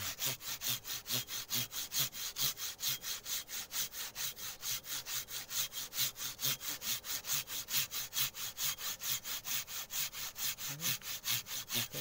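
Steady back-and-forth sawing through a wooden tree stump, a fast even rhythm of rasping strokes continuing throughout, close and moderately loud.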